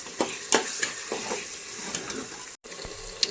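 Spices frying in a pan for biryani made with ration rice, chilli powder, turmeric and biryani masala added; soft steady sizzle with repeated scraping stir strokes and a brief cut near the end, no talk.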